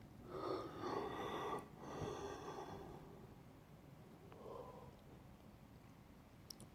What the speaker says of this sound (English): And you may have heard me yawn just there